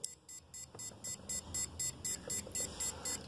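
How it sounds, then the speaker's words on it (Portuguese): An Arduino-built smart water tank alarm gives rapid, evenly spaced high electronic beeps, about one every fraction of a second, steady and fairly faint over a low background hum as the tank drains. "Um bip a cada 100 milissegundos."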